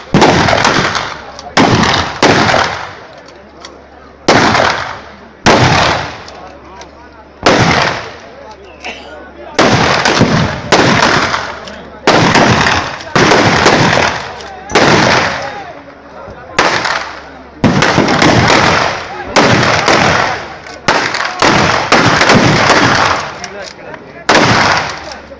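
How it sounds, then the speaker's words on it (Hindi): Rifle and pistol gunfire among a crowd in an open ground, heard as repeated loud bursts of shots and rapid volleys spaced every second or two over the whole stretch, with shouting voices in between. "राइफ़ल लेकर भी उसी मैदान में लोग खड़े हैं और फायरिंग कर रहे हैं"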